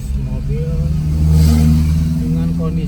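A car engine labors and revs steadily while climbing a steep old road in Banten, Indonesia, a continuous droning mid-range hum close by, with someone talking over it.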